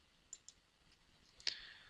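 A computer mouse clicked during drafting work in Autodesk Inventor, heard as a few faint, sharp clicks with a slightly louder one near the end, alone in a quiet room.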